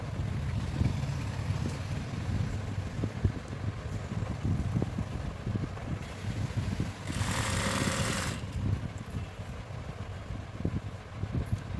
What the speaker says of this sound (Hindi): नीचे वाले निशान से बिल्कुल सीधी सिलाई लगाएंगे जहाँ हमारे निशान लगे हुए हैं।